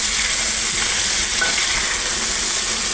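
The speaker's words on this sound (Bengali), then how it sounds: "এবার আমি ভালো করে একটু নাড়িয়ে দেবো" Snake gourd stirred in a pan with salt and turmeric, a loud, close, continuous sizzle and hiss with faint scraping underneath, no voices.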